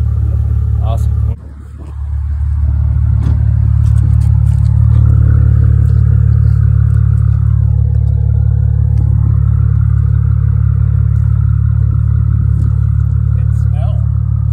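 A 2015 Maserati Ghibli SQ4 with an upgraded throttle body fires up: a brief crank and catch, then a loud, steady idle rumble with slight rises in revs, voices talking over it.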